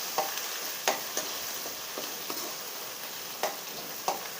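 Misal masala paste stir-fries in hot oil, producing a steady close sizzle broken by sharp spoon taps and scrapes against the pan every second or so.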